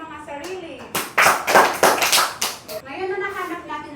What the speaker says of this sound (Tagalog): Bigyan natin ng 3 palakpak ang ating mga sarili.